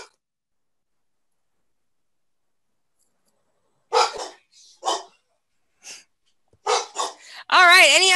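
Dogs bark at home during an online commission meeting: several sharp, mid-loud barks in short bursts after a long silence, ending in a longer whining yelp.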